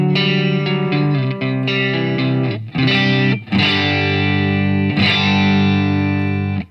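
An electric guitar on its neck pickup runs through a Morning Glory overdrive pedal, warm, gritty notes and chords ringing out with short pauses between phrases, close and full, with no talking.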